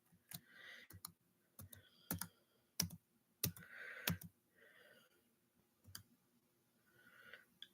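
Keystrokes on a computer keyboard, sharp clicks arriving in irregular bursts and single taps with short pauses between, close and fairly quiet, with soft breathy noises in the gaps.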